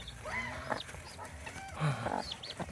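Heritage chickens cluck and chicks peep softly around a brooding hen in a farmyard, with repeated short calls close by and no talking.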